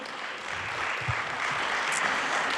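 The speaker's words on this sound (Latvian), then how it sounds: "Aplausi!" Audience applause in a hall at a Latvian public launch event, a steady, moderately loud patter of many hands clapping that keeps going for the whole stretch, with no voices over it.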